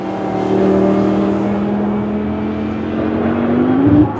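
Porsche race cars at the Paul Ricard circuit, a loud sustained engine drone holding a steady pitch, then rising sharply near the end as a car accelerates close by, with no speech.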